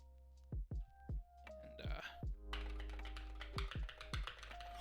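Clicky keystrokes on a Lord of the Rings themed mechanical keyboard, a handful of separate near taps with ringing tails, then a denser run of typing over a low background hum.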